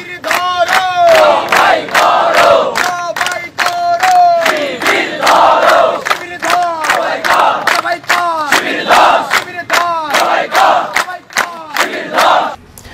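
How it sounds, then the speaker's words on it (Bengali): A large crowd on a university campus, marching under police guard, chants political slogans in unison: loud, rhythmic shouted phrases repeated in steady bursts with brief breaks between lines. "এভাবেই কিন্তু তারা স্লোগান দিয়েছিল"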